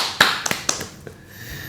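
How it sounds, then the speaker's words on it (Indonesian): Podcast hosts and a small audience clap briefly in a room. A few sharp, separate claps and taps come close together near the start, then trail off into quiet room tone. "Ini tepuk tangan dulu dong."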